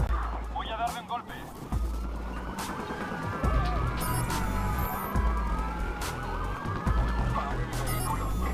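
Police car siren in the video game Watch Dogs, a wailing, sweeping tone that rises and falls continuously over steady engine and traffic rumble, with a voice talking over the chase.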